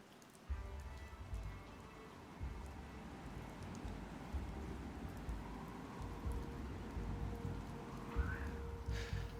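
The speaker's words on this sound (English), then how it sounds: "that buffeting rain now becoming more intense, you would hear as well the howl of the wind" Heavy rain pours steadily throughout, a dense continuous wash with a deep, rumbling low-end that suggests gusting wind, rising slightly in intensity with brief brighter gusts near the end.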